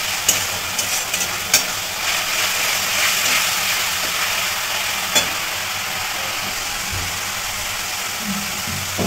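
A steady sizzle of ginger and garlic frying in a pan, broad and hissing, with a few sharp clinks of stirring utensils scattered throughout.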